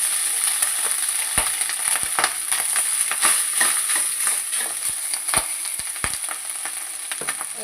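Barnyard millet rice, chilli, curry leaves and peanuts tempering in hot oil for a fasting khichdi: a steady, close sizzle runs throughout, dotted with sharp crackles and pops, with no voices.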